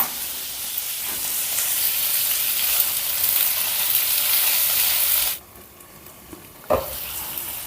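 Tomatoes, tamarind, cumin and a pinch of turmeric fry in a pan with a steady, close sizzle that drops abruptly to a quieter simmer after about five seconds, followed by a single clink.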